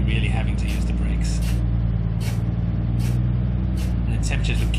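A heavy truck in the BeamNG driving game descends a very long incline with the brakes feathered as their temperature climbs: a steady low engine and road drone runs throughout, broken by repeated short bursts of airy brake hiss.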